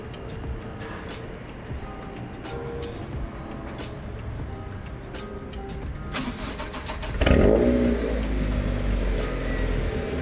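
A K-swapped Acura Integra engine cranks and fires up about two-thirds of the way through, then settles into a steady, close idle, with crickets chirping faintly in the background beforehand.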